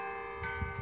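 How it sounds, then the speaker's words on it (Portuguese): A church bell tolls faintly in a snowy French setting, its sustained ringing tones lingering steadily across the short stretch with soft background noise beneath. "O sino da igreja ainda tocando."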